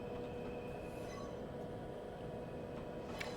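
A train passes in Train Simulator 2021, a steady low rumble with faint wheel squeal and a brief high screech near the end, heard alone at moderate distance.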